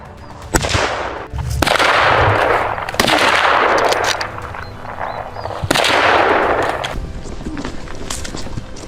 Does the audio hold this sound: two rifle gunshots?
yes